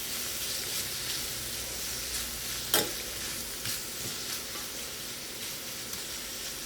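Chopped onion cooking in butter and fat with a little salt, a steady soft sizzle with one sharp scrape of stirring near the middle and a few lighter knocks after, no talking.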